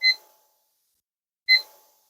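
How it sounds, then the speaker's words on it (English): A magnetic kitchen timer gives two short, bright electronic beeps about one and a half seconds apart as it is set, each clear and close in an otherwise silent room. "So I'm going to set the timer"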